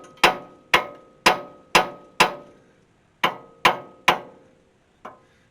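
Metal hammer strikes on a castle nut threaded upside down onto a ball joint stud of a Ford F350 7.3 IDI truck, about nine sharp ringing blows at an irregular pace, loud and close, with no talk.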